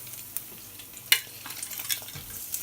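Tofu frying with onions in a pan, a soft low sizzle broken by a few sharp clatters and scrapes as the tofu goes in, fairly quiet and close.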